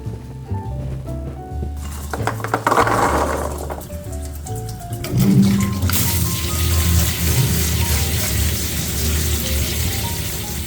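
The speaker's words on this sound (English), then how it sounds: "The very first thing we need to do is wash our cranberries." Fresh cranberries washed under running water, a continuous splashing and trickling with rattling bursts as the berries are stirred and shifted, nearby and moderately loud, without speech.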